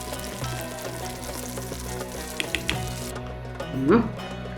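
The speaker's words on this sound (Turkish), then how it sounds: "Biraz da iç fıstıktan ekleyip kadayıfları biraz daha kavuruyorum" Kadayif shreds toasted with pistachios in a pan give a steady sizzle and frying crackle, with a few stirring scrapes and knocks that build to a louder scrape near the end.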